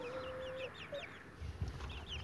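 Hens and little chicks cluck and peep nearby, with repeated chirps and one drawn-out cheep, alongside soft low clucks on a farm; no voices.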